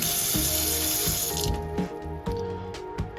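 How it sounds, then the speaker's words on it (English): Water gushing from a Delta single-handle faucet after its ball valve assembly was replaced, a loud steady stream into the sink with several sharp clicks and knocks of the handle as it is worked. "I can actually turn the water off and on now."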